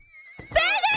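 A horse in the Rustler video game lets out a short, loud, wavering whinny after a brief soft shuffle, heard on its own and close.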